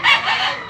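A caged rooster kept at a home crows once, a short, bright, strained call lasting under a second, close and fairly loud with nothing else around it.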